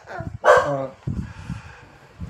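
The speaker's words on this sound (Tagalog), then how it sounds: "maingay itong aming aso" A pet dog in a Filipino household barks loudly, a sharp yip-like bark near the start followed by a few lower, rougher barks and grumbles close to the microphone, with no talk over it.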